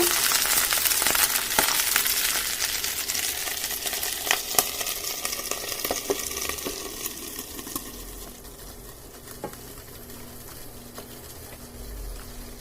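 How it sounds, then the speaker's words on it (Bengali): Chopped onions sizzle and crackle steadily in hot oil for egg curry, with scattered pops and stirring clicks, the frying gradually quieting. "পেঁয়াজ কুচিটাকে একটু ভেজে নেব।"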